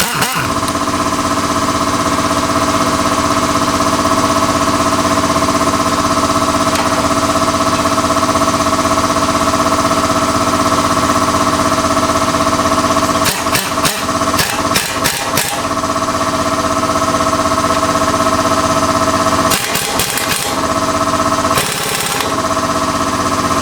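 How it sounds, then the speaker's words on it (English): A workshop air compressor runs continuously with a loud, steady motor hum throughout, broken by a few short bursts of clattering mechanical noise, with no talking. "It's good timing that the air compressor came back on."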